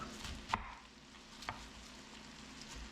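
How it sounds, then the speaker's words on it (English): A knife slices through a head of cabbage for a stew, two crisp, sharp cuts about a second apart, close up and fairly quiet against a soft kitchen background. "You slice your cabbage up."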